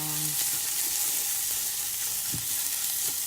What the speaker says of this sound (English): And then I'm gonna add the turmeric. Stir that around.